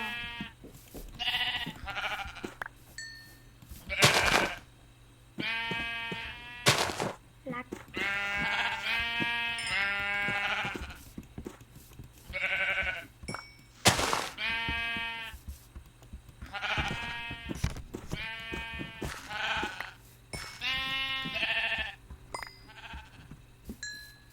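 Sheep in the Minecraft video game bleat repeatedly in short, stacked cries, several overlapping at moderate loudness, with game clicks and sharp effects between them and no talking.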